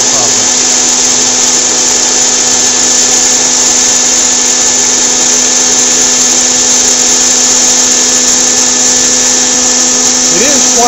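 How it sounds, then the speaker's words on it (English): Hot air popcorn popper roasting coffee beans in a garage, giving a loud, steady whirring fan roar with a constant high whine that runs unbroken throughout. "and turn on the hot air popcorn popper."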